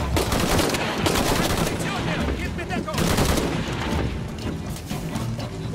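Rapid bursts of gunfire in the video game Shadow of the Tomb Raider crackle continuously, with dense overlapping shots and booms forming a loud, chaotic barrage throughout.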